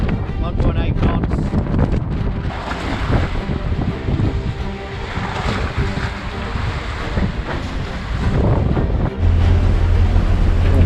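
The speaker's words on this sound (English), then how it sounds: "We're just on the corner here where the wind sort of wraps around Fiji. Like it was coming behind us before, now it's coming in front of us." Strong wind blows against a sailing catamaran at sea off Fiji, a steady, loud roar of gusts buffeting the microphone, mixed with the wash of water around the hull.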